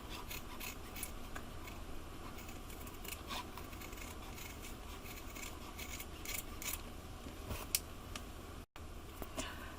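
Scissors snip through denim fabric, cutting out rose petals in a continuous line, with soft repeated crisp cuts and rustling at close range and no talking.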